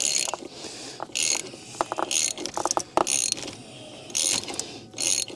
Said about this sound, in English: So just 30mm socket. I'm using a big ratchet, but that's just because it's easier.